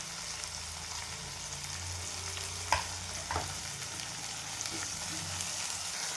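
Tomatoes fry in hot oil for a village-style offering meal, giving a steady close sizzle with a couple of brief utensil clinks partway through.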